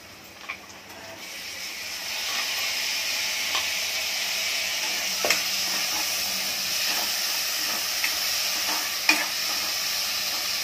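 Chopped tomatoes drop into a hot oiled pan for a sprouted matki curry, setting off a steady, loud sizzle that swells and holds, with a few sharp spatula clinks and stirring scrapes throughout.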